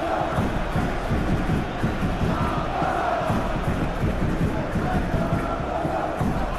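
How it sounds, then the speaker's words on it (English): A football stadium crowd at a Club Brugge versus PAOK Europa Conference League match roars steadily in appreciation of good play, a dense, loud, continuous wash of voices throughout. "Crowd appreciates good football all round there."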